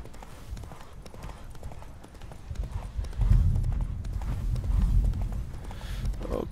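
Horse hooves clip-clop steadily at a trot in The Witcher 3, growing louder partway through, with soft ambient sound beneath.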